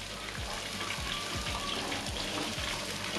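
Tofu and onions sautéing in a pan give a steady, close sizzle, with occasional soft low knocks of stirring through the hiss and no talking.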